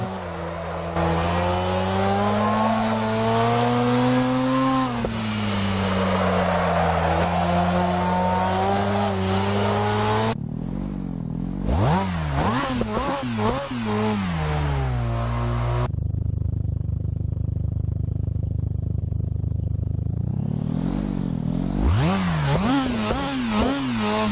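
Engines of Japanese street cars in the Assetto Corsa racing game, including a tuned RX-7 on street tires, rev and rise through gears with whining harmonics, tire squeal and shifts, loud and continuous with no talk.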